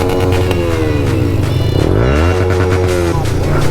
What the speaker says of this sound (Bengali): হালকা থ্রটল দাও তো।